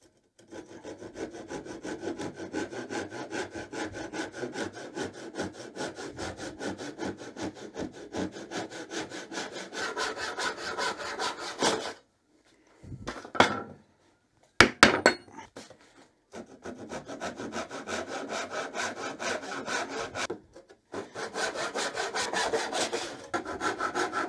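Hand sawing through Tasmanian oak, with rapid, even back-and-forth strokes running in long bursts, broken by a few short pauses and a couple of sharp knocks before the sawing resumes, close and clear.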